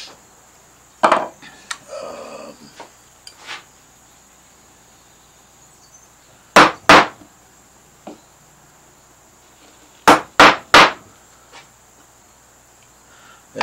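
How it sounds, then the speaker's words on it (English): Wood gouges chopping while carving strapwork give sharp, separate knocks in small clusters of two or three, spaced by quiet gaps, over a faint steady high whine. "I go through a couple different gouges to cut this, see how I've then kind of chopped that a bit"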